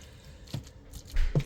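Soft, wet squishing and dull thuds of meat pie filling being mashed and stirred in a pot, a few close, irregular knocks.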